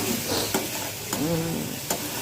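Potato and cauliflower bhaji with coriander fries in a pan, making a continuous close sizzle broken by a few sharp scraping stirs.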